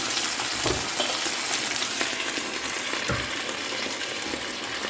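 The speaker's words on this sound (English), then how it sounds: "And this is all going to simmer together for about 20 minutes, covered, while my rice finishes cooking." A pot of BBQ jackfruit mixture simmers, giving a close, continuous bubbling sizzle with soft pops and gurgles throughout, no voices.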